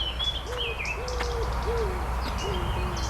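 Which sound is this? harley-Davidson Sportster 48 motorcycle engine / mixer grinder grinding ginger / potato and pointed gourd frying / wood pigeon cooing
wood pigeon cooing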